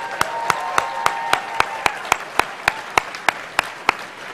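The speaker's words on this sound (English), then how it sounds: "please join me in giving one more round of applause to Alana, to Natalie, and to all of our award recipients tonight." Conference audience at an Oregon tourism event applauding award recipients, a steady rhythmic clapping with sharp regular beats over a continuous wash of hands, close and fairly loud, with no speech.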